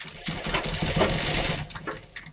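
An electric sewing machine stitches a Katori cut blouse in a continuous, close whirring run with a rapid needle rhythm, easing off toward the end.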